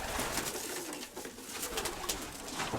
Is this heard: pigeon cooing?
yes